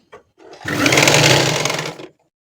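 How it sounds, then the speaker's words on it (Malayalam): A sewing machine stitches a seam on a nighty in one loud, close, continuous whirring run of about a second and a half, ramping up and then stopping abruptly. "നമുക്ക് തയ്ച്ചു കൊടുക്കാം"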